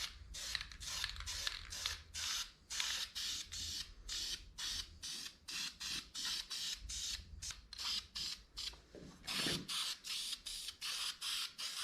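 White paint is sprayed onto a Honda Accord in a long run of short, hissing aerosol bursts, each separated by a brief pause, close and fairly loud with no talking.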